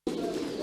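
Pigeons at a pigeon-breeding farm in Shache district make a dense, continuous murmur of cooing, close and steady for a brief moment.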